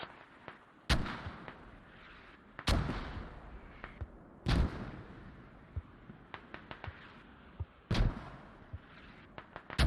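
Heavy 30 mm autocannon fire in the military shooter Squad, firing single loud booming shots at irregular intervals about two seconds apart, interspersed with fainter distant reports and background battlefield rumble.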